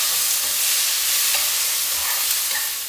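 Garlic masala paste being stirred into frying prawns in a hot pan, a steady broadband sizzle with soft scraping stirs throughout, fairly close and continuous, with no voices.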